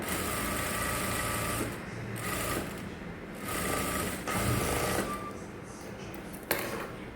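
A sewing machine runs steadily while stitching the hem of a saree, its rapid mechanical whirr continuing in near bursts with brief pauses and a sharp click near the end.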